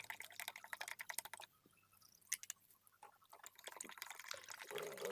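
Oil is poured into a homemade laundry soap mixture, producing a soft, steady liquid trickle and splashing that eases off briefly midway, then picks up again, all fairly quiet and close.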